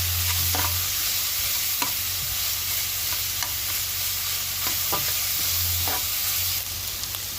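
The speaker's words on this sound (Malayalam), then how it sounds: "ഇനി ഇതിലേക്ക് ഒരു പച്ചമുളക് ചെറുതായിട്ട് നറുക്കിയതും 1 ടേബിൾ സ്പൂൺ ജിഞ്ചർ ഗാർലിക് പേസ്റ്റും കൂടി ഇട്ട് ഒന്ന് വഴറ്റുക." Onion, green chili and ginger garlic paste sauté in a pan with a steady sizzle throughout, punctuated by a few spoon scrapes and stirs, close and fairly loud with no talking.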